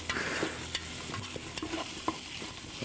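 Onion, garlic, ginger and a spoonful of tomato paste are stirred in a hot pan, a soft continuous sizzle broken by repeated scraping knocks of the spoon against the pan, close and moderately quiet.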